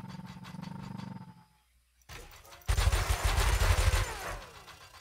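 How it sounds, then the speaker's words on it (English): Spaceship weapons fire in the Elite Dangerous beta, heavy bursts of rapid automatic shots and deep booming roars, loud and close, with a brief near-silent gap before a second, louder barrage. "let's see if I can shoot these things"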